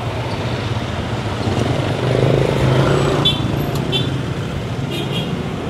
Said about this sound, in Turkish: Şu trafiğe bakar mısınız ya, kalabalığa?